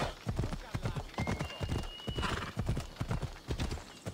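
Rhythmic clip-clop of a horse galloping in Assassin's Creed Odyssey, hooves pounding steadily and close with a brief whinny partway through, over a busy game soundscape.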